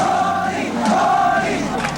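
A Manila crowd erupts in celebration at the fall of Marcos, a dense roar of cheering and shouting voices heard up close for a short burst.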